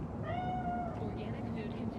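A cat meows once with a drawn-out, wavering cry in the video game Cyberpunk 2077, heard close over a low background hum.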